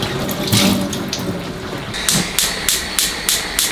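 Tap water running while glass jars and lids are washed, a hissing stream broken by a series of sharp, evenly spaced clinks and knocks toward the end.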